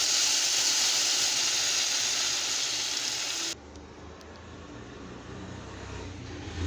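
Ginger, garlic and cumin paste hitting a hot pan for a tilapia curry, giving a loud steady sizzle that drops abruptly to a quieter simmering fry partway through, with no talk.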